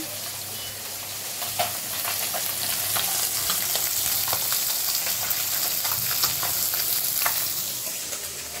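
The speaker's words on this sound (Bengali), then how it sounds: "এই যে বন্ধুরা পুঁটি মাছ ভাজতেছে" Small puti fish fry in hot oil in a pan, a steady dense sizzle with crackling spits and pops running throughout, close and fairly loud with no talking.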